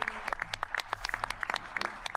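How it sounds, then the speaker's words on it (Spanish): Sparse applause from a small audience at a conference, with distinct individual claps scattered irregularly, fairly close and moderate in volume. "Aplausos para Italo"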